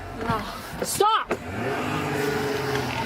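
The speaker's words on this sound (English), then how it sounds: "she's trying to take off in her car" A car pulling away from a shoplifting scene, with a brief loud whoosh of the vehicle moving off near the one-second mark, then a steady engine and road rumble, while a person shouts nearby.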